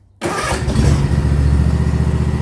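A Husqvarna TS242 ride-on mower engine at half throttle starts after a brief silence, catching almost instantly, then settling into a loud, close, steady running rumble.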